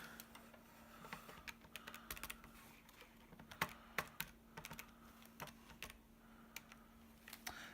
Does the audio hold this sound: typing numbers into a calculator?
yes